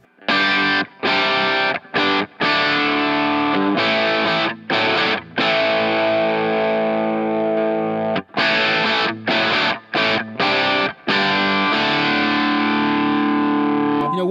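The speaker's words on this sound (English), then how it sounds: "here is my channel 2 kind of medium gain sound on this amp." Electric guitar with a crunchy, moderately overdriven amp tone, playing sustained chords and riffs separated by brief choked pauses, loud and close.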